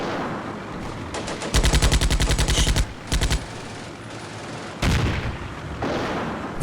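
Gunfire in a Combat Mission Beyond Overlord tank battle near a Sherman: bursts of rapid machine-gun fire and heavy booming shots over steady rumbling battle noise.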